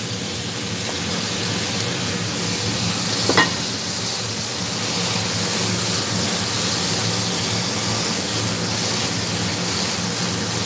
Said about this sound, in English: I'm going to fry the mushroom at the side so I don't wet this, the shrimps and the sausage